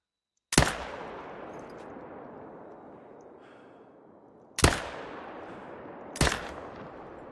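Three loud rifle shots in a hunting video game aimed at a great one, each a sharp crack followed by a long rolling echo, the first alone, then two more close together near the end.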